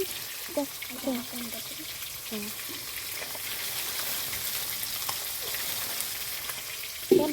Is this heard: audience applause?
no